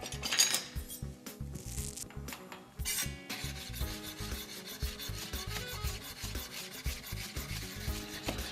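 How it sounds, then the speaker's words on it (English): A knife chops leftover peaches roughly on a board, with their skins left on. The close, rhythmic thuds and scrapes repeat quickly and continuously, and no one speaks. "all those leftover peaches that I have, I'm just gonna give those a rough chop"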